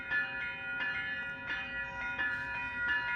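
Via Rail passenger train sounding a sustained, layered horn chord at moderate distance, steady throughout with slight pulsing swells.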